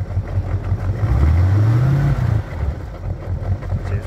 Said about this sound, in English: Go ahead and bump the throttle a little bit, right at the carb.